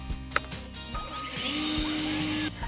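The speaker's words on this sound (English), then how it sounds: "Oh, I got a leaf blower." A leaf blower runs outdoors in a garden, a steady motor whine holding for a couple of seconds after a brief sharp knock, then cutting off near the end.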